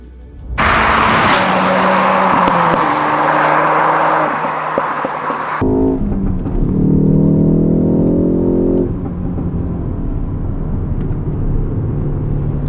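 A 2019 Ford Focus ST with a 2.3-litre engine and RaceChip tuning drives on the street. A loud engine roar climbs steadily, then drops abruptly after a shift and builds again as the car keeps accelerating. No one speaks.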